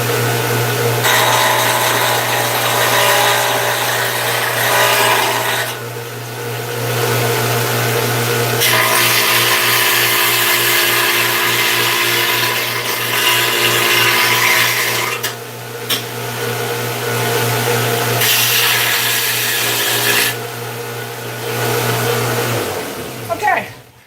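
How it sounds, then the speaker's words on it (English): An angle grinder grinds the sharp cut edges off metal crusader armor. Loud, close passes of harsh grinding are broken by short pauses, over a steady motor hum. "The grinder's right here. I'm just going to grind off the sharp edges that I just cut"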